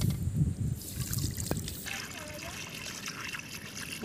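Water trickles and splashes as fish is washed clean for a curry cooked outdoors on a farm, a close running dribble with someone speaking over it.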